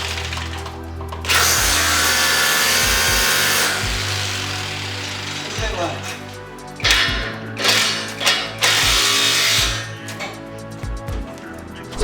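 A power tool drives anchors to fasten a steel structural reinforcement beam during a building's first-floor remodel, with loud whirring bursts and short impact pulses, metallic clanks and a brief voice amid site noise.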